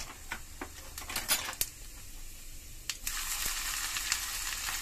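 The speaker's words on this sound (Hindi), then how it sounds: "चलिए दाल में लगा लेती हूँ छौंक।" Crackling, popping sizzle of cumin seeds, ginger and green chillies tempering in hot oil for lentils, with sharp bursts of spattering over a steady hiss, fairly close.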